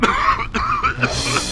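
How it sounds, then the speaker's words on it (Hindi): A person coughs several times in quick, rough bursts, close and loud, sounding hoarse and throaty. "आपको तो बहुत बुरी खांसी है, कुछ लेते क्यों नहीं?"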